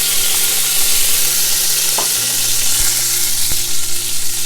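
Palm oil sizzles and fries steadily in a pan at the start of cooking a Togolese gboma dessi vegetable stew, a loud, continuous hiss with a few faint knocks and clinks.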